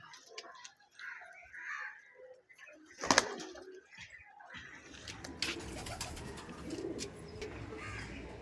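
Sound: teddy pigeons cooing

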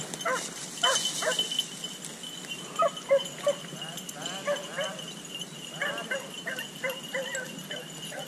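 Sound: hunting beagles

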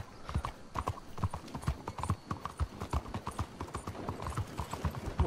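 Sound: horse hooves galloping, from the video game Red Dead Redemption

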